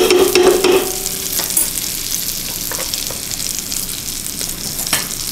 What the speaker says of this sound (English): And we'll let those sizzle